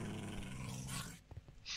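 Dog growling while attacking in a video game, a steady low rumbling snarl that breaks into a few short yelps near the end, heard close and with no talk over it.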